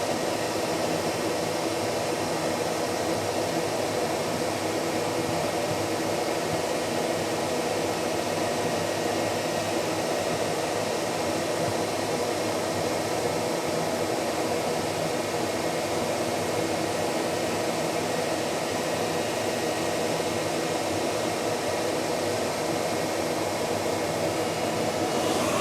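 xTool D1 Pro laser cutting red acrylic at slow speed and full power, heard as a steady, unbroken hiss and hum of the air assist and fans that holds level throughout, with no talking.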